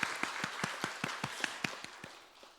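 A church congregation at a Wednesday service gives a short round of rhythmic clapping, about a dozen evenly spaced claps that fade out near the end.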